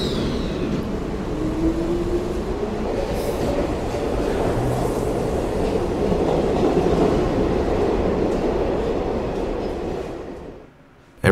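A subway train on the Hillcrest Metro line in a video game rumbles steadily with a dense clattering roar and faint wheel squeal, holding loud for about ten seconds before fading out abruptly.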